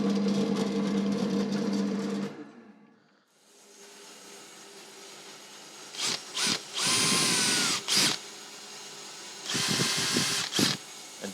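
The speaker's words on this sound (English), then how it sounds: "drilling through from this side so we don't get tear out on the top" A power drill boring through a wooden guitar neck whirs in several short bursts, starting and stopping repeatedly, with a louder sustained run in the middle; fairly close and loud.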